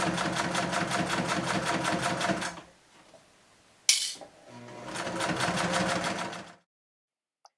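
A sewing machine stitches fabric mask ties in two rapid, rhythmic runs of close, even needle clatter, separated by a pause with a sharp snap, then falls silent.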